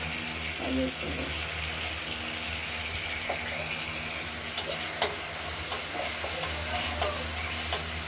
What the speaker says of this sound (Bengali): এবার তেল বেরোনো পর্যন্ত অপেক্ষা করতে হবে। হ্যাঁ, হলুদ কষানো হবে।